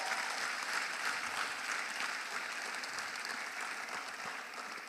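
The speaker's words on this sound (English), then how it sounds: "Can we give him another round of applause" Audience at a stakeholder forum applauds in a steady, dense clatter of many hands, sustained at even loudness for several seconds and easing slightly near the end.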